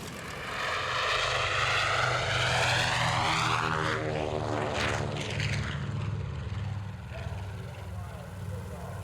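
A B-25 bomber propeller airplane roars past overhead at an air show, its droning engine swelling loud and then sliding down in pitch as it flies away.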